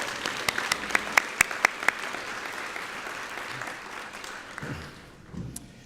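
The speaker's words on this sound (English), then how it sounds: "So please give one more round of applause for our colleagues from the Walmart Corporation." A room full of people at a Rotary student service fair applauds colleagues from the Walmart Corporation, steady crowd clapping with a few loud sharp claps near the front, gradually thinning toward the end.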